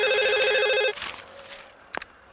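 An indoor telephone rings in a fast repeating electronic trill for about a second, then stops, followed by quieter shuffling sounds and a brief sharp knock.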